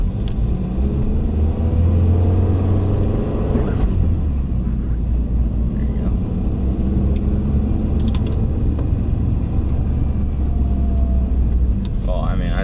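A cheap manual-transmission car pulling away in first gear, its engine rumbling low and steady close by as the clutch is let out with light throttle, with a person speaking over it.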